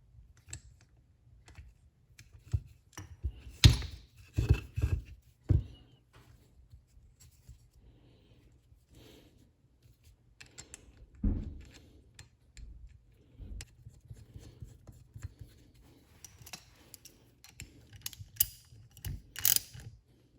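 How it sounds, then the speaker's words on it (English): Small spring retainer screw being turned into a Mustang brake assembly during a brake rebuild: faint, close clicking and ratcheting bursts with light metallic taps and quiet pauses between, no talking. "next let's put this little spring retainer screw in here"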